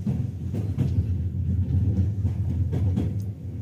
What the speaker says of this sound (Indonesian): Keretanya baru jalan.